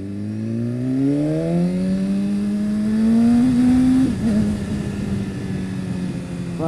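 A BMW S1000RR motorcycle engine revs hard under acceleration, its pitch climbing steadily through the gear before dropping at a shift and pulling again, loud and close throughout with no speech.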